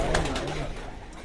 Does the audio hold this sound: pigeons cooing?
yes